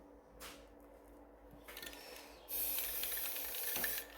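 A spray can mists clear coat onto spray-paint art, with short hissing bursts followed by a longer steady spray up close, no talk.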